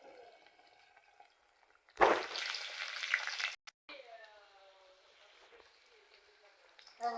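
Brinjal pieces drop into a hot pan and fry, a sudden loud sizzle that holds for a second or two then eases to a softer crackle, with speech before and after.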